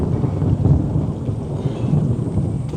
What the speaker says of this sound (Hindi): कितना बड़ा बिजली कड़का, देखिए आप।